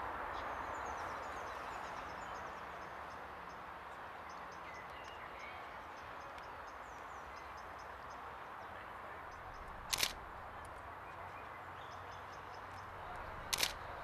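Two quick, crisp camera shutter clicks sound about three seconds apart over a steady faint background hum with distant chirping.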